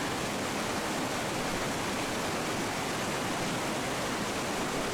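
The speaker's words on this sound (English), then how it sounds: "And you can see there the water flowing under the bridge and working its way down to the" Water at Eurobin Falls on Mt Buffalo pours steadily under a footbridge, a dense, unbroken rush that stays loud and even throughout with no voices.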